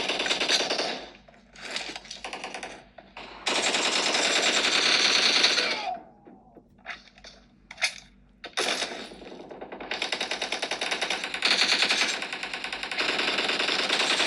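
Rapid automatic gunfire from the PUBG mobile game played on a Xiaomi Mi 11 Lite, coming in loud sustained bursts separated by brief pauses.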